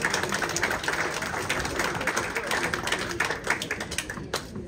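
An audience applauds a returning prize winner at the final of a best breakfast and brunch competition, a steady, dense wash of clapping that runs the whole stretch with some louder individual claps standing out.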